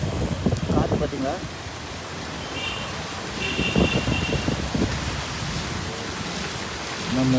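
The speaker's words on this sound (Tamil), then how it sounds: "இந்த மாதிரி காற்று அடிக்குது." Steady cyclone wind roaring and buffeting outdoors during heavy rain in Chennai, a broad rushing noise with low rumble, while voices talk intermittently underneath.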